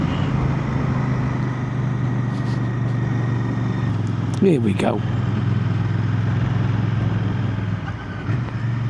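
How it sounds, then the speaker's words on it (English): A 2025 Royal Enfield Bear 650 engine drones steadily in third gear at about 30, a low continuous thrum under a voice, with a brief rush of wind noise midway. "Very tractable, these 650 engines."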